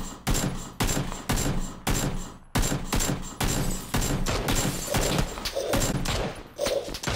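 Rapid bursts of gunfire crack out from several directions in a PUBG firefight on Xbox, loud volleys separated by short gaps, with a few dull thuds toward the end and no talking.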